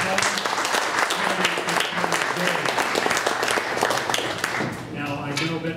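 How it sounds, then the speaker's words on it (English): An audience applauds three judicial candidates at an endorsement interview panel, steady clapping throughout with voices talking over it near the end. "please give Ken Pollock, Rena Hughes, and Romeo Perez a round of applause"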